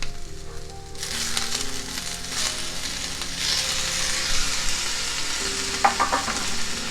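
Steady sizzling and frying of tomatoes in a pan with stirring scrapes, loud and close, no talking.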